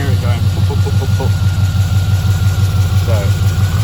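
A V8 car engine runs with a steady, rapid chugging pulse, loud and close, with a faint popping rhythm in the exhaust.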